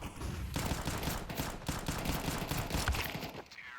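Dense, rapid gunfire in a Counter-Strike match on de_Dust2, with Five-SeveN pistol shots mixed into a continuous exchange of shooting that is fairly loud and ends abruptly.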